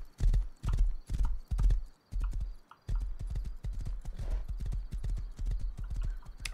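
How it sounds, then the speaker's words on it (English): Stolen horse galloping in the video game Rust, rapid rhythmic clip-clop hoofbeats close and loud throughout, with a brief whinny. "This stolen horse is very good."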